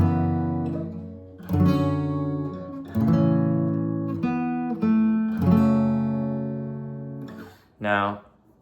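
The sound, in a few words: guitar playing chord progression of a song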